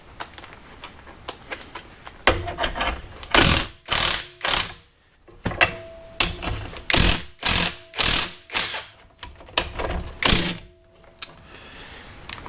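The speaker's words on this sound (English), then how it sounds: "we're going to undo these slowly until your ratchet breaks" Ratchet clicking repeatedly while undoing suspension bolts on a Mazda 3, about a dozen loud, close bursts of rapid ticking in a steady back-and-forth rhythm, with short pauses between strokes.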